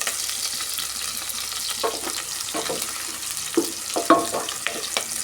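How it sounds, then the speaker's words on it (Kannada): Onions and curry leaves fry in oil for a sambar tempering, a close, continuous sizzle with repeated clacks and scrapes of a spoon stirring the pan, no speech. "ಈಗ ಸ್ವಲ್ಪ ಕರಿಬೇವಿನ ಸೊಪ್ಪು ಸೇರಿಸಿ ಎಲ್ಲ ಸ್ವಲ್ಪ ಫ್ರೈ ಮಾಡ್ಕೊಳ್ಳೋಣ."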